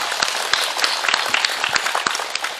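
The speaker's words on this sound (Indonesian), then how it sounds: "Tepuk tangan disit kok." A crowd applauds during a humorous Islamic sermon in a village, with a brisk wash of hand claps and individual sharp claps popping out. The applause is fairly close, loud and continuous, with no speech over it.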